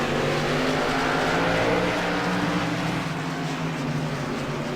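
Race cars roaring down the front stretch at Langley Speedway during a CRA stock car race, a loud sustained engine drone with steady pitch, close and continuous with no voices.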